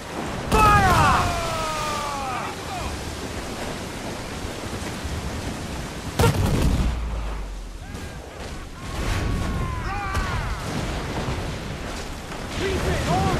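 Ship cannon fire at sea in Assassin's Creed 4 Black Flag, with booming blasts over loud, rushing wind and waves and shouting crew voices.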